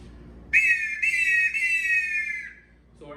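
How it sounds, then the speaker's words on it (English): A handmade eagle whistle shown alongside rattles and other traditional Mexican instruments gives a shrill, piercing sustained tone in a few quick pulses that slide down, loud and close. "And we have our eagle whistle here as well."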